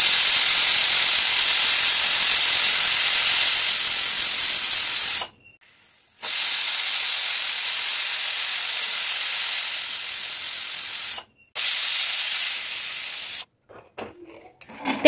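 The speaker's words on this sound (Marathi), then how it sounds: "कुकरला सुद्धा झाकण लावून अगदी मध्यम गॅसवरती कुकरच्या 3 शिट्ट्या काढून घ्यायच्या आहेत" A pressure cooker on medium heat, cooking milk for kharvas, whistles and vents steam in loud sustained hissing bursts, broken by two short pauses and ending in sputtering, irregular releases.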